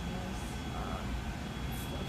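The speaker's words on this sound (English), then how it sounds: "the furnace." A household furnace running beside a Dillon 550B reloading press, a steady broadband rumble and whoosh filling the room at constant level.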